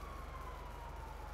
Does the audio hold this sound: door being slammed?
no